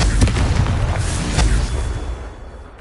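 A blasting spell in Hogwarts Legacy lands as a loud, booming explosion with a deep rumbling burst and a few sharp cracks, fading into a crackling tail over under three seconds, with no talk.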